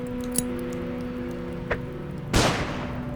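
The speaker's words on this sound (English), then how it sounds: "Let's throw a grenade." A grenade goes off in the turn-based game Underrail: one sharp broadband burst near the end, spreading into a short noisy decay, after a couple of small clicks over a steady low game hum.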